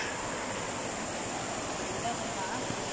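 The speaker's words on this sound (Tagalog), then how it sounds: "River." Steady, broadband rushing of a river on a mountain trip, an unbroken close wash of flowing water at even loudness throughout.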